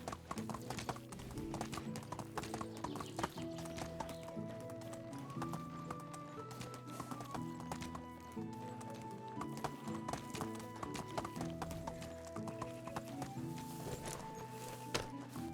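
Horse hooves clip-clop at a steady rhythm while riding in the video game Medieval Dynasty, close and continuous over game music.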